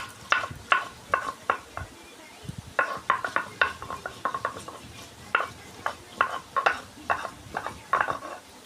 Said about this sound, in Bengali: তো এবার আমি গরম মশলাটা বেটে নেব, তাহলে মোটামুটি শিলের কাজ কমপ্লিট হয়।